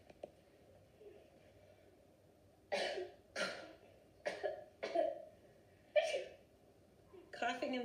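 A run of about six hacking coughs in a quiet room, close and distinct bursts spaced roughly a second apart after a near-silent opening, with the last one rougher and more drawn out.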